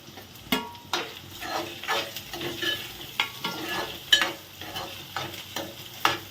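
Taro pieces tumble into ginger paste frying in a pan and get stirred, a low sizzle under a string of distinct spatula scrapes and knocks at an uneven pace, no speech.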